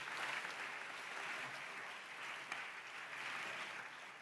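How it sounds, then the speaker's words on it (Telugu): A church congregation claps for a servant of God, steady applause that continues evenly throughout at a faint, distant level. "ఆ దైవ సేవకుని బట్టి అందరం చప్పట్లు కొడితే యేసయ్యకు స్తోత్రాలు చెప్తాం"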